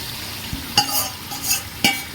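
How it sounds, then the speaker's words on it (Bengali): Two kilograms of chicken meat being mixed with sour yogurt in a pot, with a few wet scraping strokes and soft sizzling, close by with no talking. "এটা 2 কেজি মাংস আছে, টক দই দিয়ে মাখাচ্ছি"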